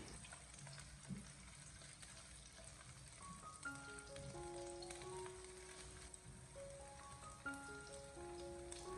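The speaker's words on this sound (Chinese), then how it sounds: "我们将牛丸简单的煎制一下之后，紧接着再给它翻炒一下，给它翻炒均匀。" Beef balls pan-fry and get stir-fried in a wok, a continuous crackling sizzle with occasional spatula scrapes, while a light melodic tune plays quietly alongside.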